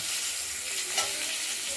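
Whole spices tempering in hot oil after frying koi fish make a steady, even sizzle close by, with a slight pop near the middle and no talking.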